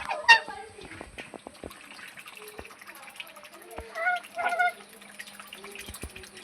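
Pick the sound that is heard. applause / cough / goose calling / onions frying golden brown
goose calling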